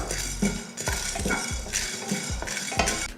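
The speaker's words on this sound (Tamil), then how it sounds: "முதல்ல 1 ஸ்பூன் அளவுக்கு கடலைப்பருப்பு போட்டு வறுத்துக்கலாம்." A utensil stirs and scrapes against a dry pan in a steady rhythm, with small clinks as chana dal lentils roast and rattle around inside.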